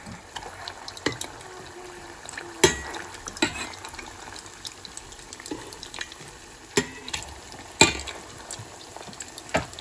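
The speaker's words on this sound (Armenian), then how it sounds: "ու տեղափոխում ենք արդեն նախապես տաքացված բուսայուղի մեջ, բոլոր կողմերից թողնում ենք տապակվեն" Cheese doughnut balls fry in heated vegetable oil with a steady close bubbling sizzle, broken by sharp clicks and taps from a utensil stirring and turning them. No one talks.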